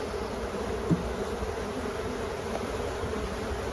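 Honey bees hum steadily around a hive, a continuous low drone that stays even throughout, with one brief louder buzz as a bee passes close to the microphone.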